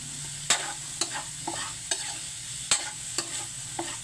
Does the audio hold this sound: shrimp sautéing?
yes